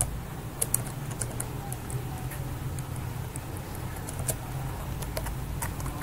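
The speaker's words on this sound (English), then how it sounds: "So let me type back this last line." Typing on a computer keyboard, a continuous run of quick, close key clicks with occasional louder taps against a low background hum.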